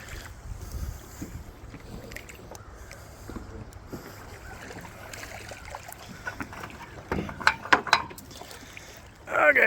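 Boat being drawn in onto a trailer at a river, with faint water trickles, wind buffeting, scattered knocks and scrapes, and a few louder bumps near the end.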